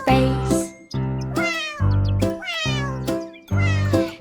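A kitten gives five separate, clear mews in a steady rhythm, each call close and loud with short silences between.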